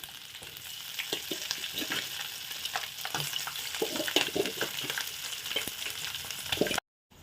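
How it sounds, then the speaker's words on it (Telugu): Boiled chicken and onions frying in hot oil in a pan, a steady close sizzle with occasional stirring scrapes, with no talking. "ఆయిల్ వేసి అందులో ఆనియన్ వేసి ఎర్రగా కొద్దిగా వేగనివ్వాలి ఉడికించుకున్న చికెన్ ఇందులోకి వేసేయాలి"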